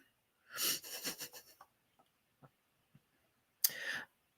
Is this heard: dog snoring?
yes